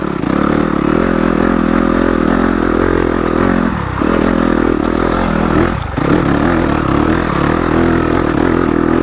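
A stock Yamaha YZ250FX dirt bike engine runs loud and close on a steep climb, a steady droning note with two brief dips in revs, no voices over it.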